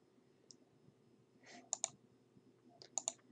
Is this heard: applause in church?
no